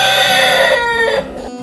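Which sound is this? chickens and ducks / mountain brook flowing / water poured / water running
chickens and ducks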